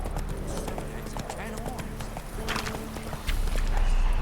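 Roach the horse walks in The Witcher 3, hooves clip-clopping in a steady rhythm up close while a voice talks over the footsteps.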